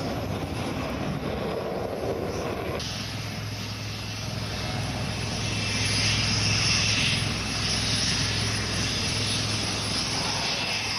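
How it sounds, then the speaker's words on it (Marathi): Rafale and Sukhoi fighter jets fly low and slow past the spectators' gallery at the Aero India show in Bengaluru, a steady loud engine roar that swells and brightens midway and holds to the end. "राफेल आणि सुखोई या दोन विमानांनी आज आपली थरारक प्रात्यक्षिकं सादर झाल्यावर प्रेक्षकांच्या गॅलरीसमोर अगदी कमी उंचीवरून कमी वेगानं उड्डाण करत"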